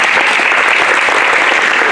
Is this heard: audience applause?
yes